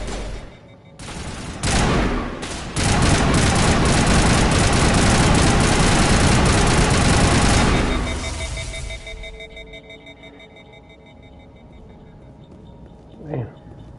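Rapid sustained gunfire from a weapon in the sci-fi game Ninjas in Space, a dense loud burst lasting several seconds before cutting off into a fading tone and ambient hum as the gun overheats.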